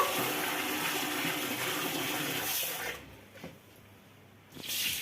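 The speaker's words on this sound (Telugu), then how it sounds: "ఇలా రెండు సార్లు కడిగేసుకుని" Water runs loudly over grains being rinsed twice in a bowl for coconut dosa batter made without urad dal, a steady rush for about three seconds that then drops to quiet trickles before surging again.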